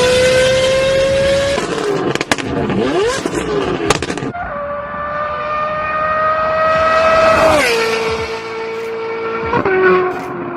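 A Ferrari 458 Italia's engine revs and climbs through gears with a loud, rising high-pitched wail, dropping as it shifts and climbing again, heard from close by.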